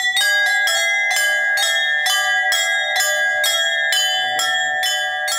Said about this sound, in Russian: Механика звона на зазвонных колоколах.